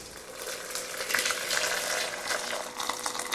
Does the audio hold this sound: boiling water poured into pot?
yes